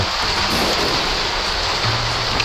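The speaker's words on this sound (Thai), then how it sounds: "ซึ่งผมก็ต้องสู้กับเสียงฝนนะฮะ" Heavy rain falls as a loud, steady, unbroken hiss that fills the whole stretch, with no voices.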